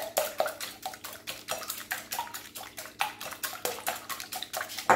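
Three eggs being beaten with a whisk in a bowl, a fast steady rhythm of light clicking and sloshing strokes, close and continuous with no talking.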